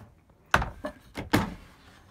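A drawer in a 2015 Keystone Montana 3610RL RV sliding and thumping, several wooden knocks in quick succession ending with a firmer closing thud, close by and alone.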